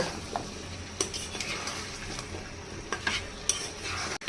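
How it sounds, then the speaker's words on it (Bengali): A spoon stirs flat beans, potatoes and spice masala together in a pan, giving soft irregular scrapes and occasional clinks of metal over a faint low frying sizzle, close and fairly quiet. "এখন সবগুলো একসাথে ভালো করে নেড়ে নিব"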